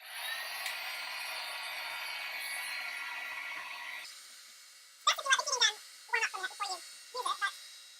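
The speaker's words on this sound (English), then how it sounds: "Turn on my heat gun." A heat gun runs with a steady, fairly loud whirring blow for about four seconds, then cuts off, followed by a person talking in short bursts.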